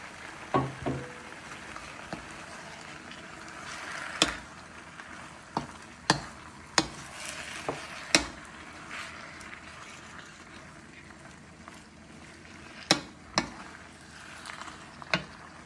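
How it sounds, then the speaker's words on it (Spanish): Tomato, onion and garlic sizzle steadily in a pan, with occasional sharp clinks and scrapes from stirring punctuating the continuous frying hiss. "Friendo bien el tomate, la cebolla y el ajo."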